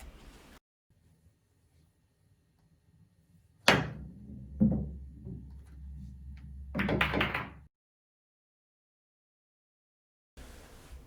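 Pool balls in a trick shot clack and bank off the cushions, several sharp knocks spaced apart with quiet gaps in between.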